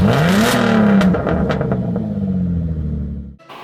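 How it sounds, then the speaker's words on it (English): An Infiniti G35 or Nissan 350Z engine revs hard and loud, the pitch climbing then sliding back down into a rough, throaty rumble before cutting off. "every single time that we start this engine, it screams so loud."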